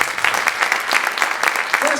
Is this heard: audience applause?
yes